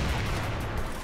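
Dense, continuous gunfire from a CrossFire match, a loud unbroken roar of rapid shots with no clear gaps between them.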